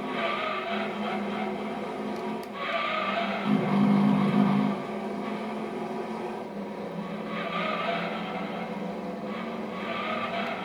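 Race cars in Gran Turismo 2 on the Apricot Hill circuit, a steady loud engine drone with shifting pitch as AI cars run close together, one brief higher engine swell partway through.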